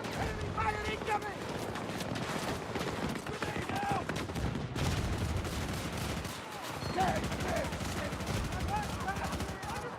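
Battlefield 2042 gunfire rattles almost nonstop, rapid machine-gun bursts and heavier blasts layered together, loud and close, with voices talking underneath the shooting.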